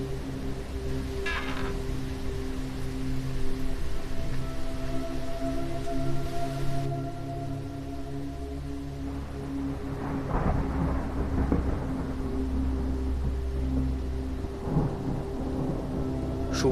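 Heavy rain and gusting wind pound a school building during a storm, a steady dense roar broken by deep thunder rumbles, with a low sustained tonal hum underneath and no voices.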